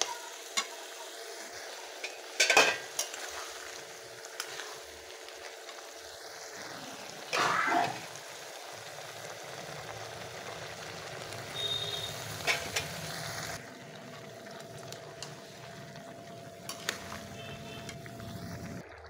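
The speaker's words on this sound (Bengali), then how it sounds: "একটু নেড়ে চেড়ে দিয়ে দেবো পুঁই শাকগুলো" Ash gourd and Malabar spinach stirred in a frying pan, a steady low sizzle with a few scraping spoon strokes, close by and without talk.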